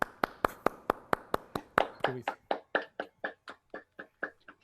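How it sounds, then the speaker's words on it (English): A single participant in an online annual meeting claps alone, about twenty crisp, close handclaps in a steady rhythm that gradually slows and softens toward the end, with no voices. "let's do a virtual applaud"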